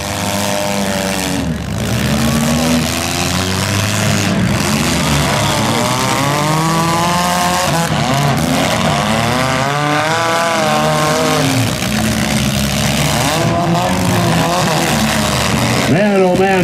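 Small stock cars at a demolition derby in Schomberg, Ontario rev hard and whine up and down in pitch, with loud engine roar, occasional thumps and a commentator talking over the noise.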